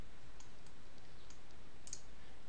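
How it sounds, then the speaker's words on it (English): A computer mouse clicks a few times, soft and close against a faint steady hiss, with one slightly sharper click near the end; no one talks. "So you just click on the surface"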